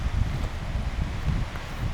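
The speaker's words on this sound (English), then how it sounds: "It's a little bit windy here." Wind gusting along a coastal road on New Zealand's East Cape, a low, continuous rumble and buffeting, fairly loud and steady, with no voices.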